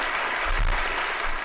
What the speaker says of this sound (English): I don't know why people are clapping,